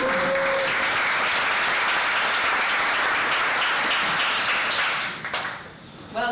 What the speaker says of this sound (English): We stand up and we give a round of applause.